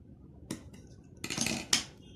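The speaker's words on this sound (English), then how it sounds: "Then cut it with the scissors." Scissors snipping through paper or thread in a quiet room, a few short crisp cuts in quick succession, close and fairly soft, with no talking.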